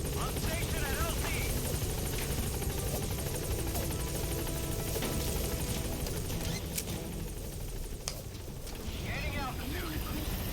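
The Pequod helicopter in a video game holds on station over a landing zone, a dense steady rotor roar filling the scene throughout, close and loud, with game radio chatter and a player's voice faintly under it.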